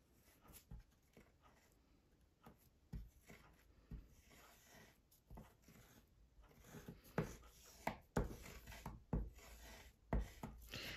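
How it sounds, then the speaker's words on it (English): A card scrapes printing ink across a tray in repeated rubbing, scraping strokes that grow louder and sharper toward the end, close and alone with no talk. "we're going to use our card to scrape it all over the surface"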